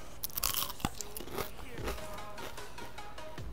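Someone bites into a crunchy baked phyllo pastry bundle filled with coconut, giving loud, close, crackling crunches and chewing sounds spread over a few seconds.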